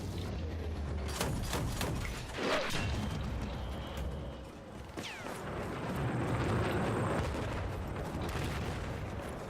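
Battlefield 4 combat with a heavy blast amid scattered gunfire and rumbling, a mid-distance boom near the middle over continuous battlefield noise and mechanical clatter.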